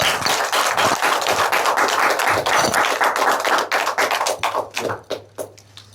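A church congregation applauds during a Sunday morning service in a dense wash of clapping that thins into scattered individual claps before fading out.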